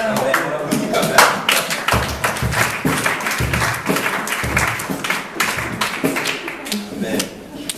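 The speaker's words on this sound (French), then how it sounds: "On applaudit quand même." A church congregation claps in loose, uneven applause for several seconds, the sharp hand claps close and lively.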